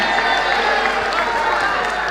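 Steady applause and crowd murmur fill a packed hall at an Indonesian book discussion event, honoring a parliamentary chairman. The sound is loud, dense and even, with no break.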